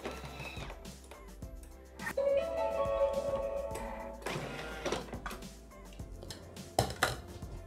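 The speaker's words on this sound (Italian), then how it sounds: "Ed azioniamo il bimby per 3 minuti" Thermomix (Bimby) kitchen machine running at speed 3 to mix a sweet cake batter with vanillin, a low motor whir with irregular clattering and knocking from the bowl, rising and falling over several seconds.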